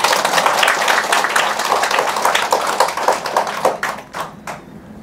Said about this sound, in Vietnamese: Quý vị cho một tràng pháo tay.